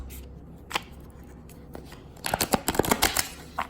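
A deck of tarot cards is shuffled, a few isolated riffles followed by a rapid burst of crisp, close card flicks.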